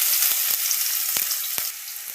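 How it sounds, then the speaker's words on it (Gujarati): Onion tempering in hot oil makes a steady, fairly loud sizzle with a few brief low thuds or pops, continuous and close, with no voices. "વઘાર માટે ડુંગળી નાખશું"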